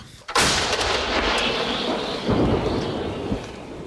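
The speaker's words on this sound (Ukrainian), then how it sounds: "За допомогою гармат стримуємо їх наступ." Artillery guns of a Ukrainian National Guard unit fire in Kharkiv region: a heavy, booming blast opens the clip and rumbles on, followed by a couple of softer distant thuds.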